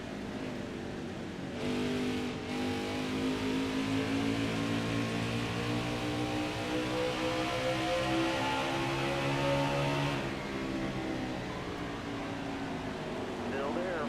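Race car engine in NASCAR Heat 5 at Phoenix, a steady loud droning roar with rising and falling pitch as the car laps, running continuously for the whole stretch with a brief shift near the start.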